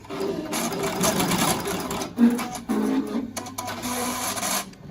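Melco embroidery machine stitching a face mask, a steady rapid mechanical whir with rhythmic needle clatter running nearly throughout, close and fairly loud, with brief pauses and no speech.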